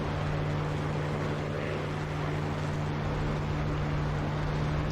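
Spitfire piston engine drones steadily under throttle in the DCS World flight simulator, a loud continuous hum with a strong low tone held throughout.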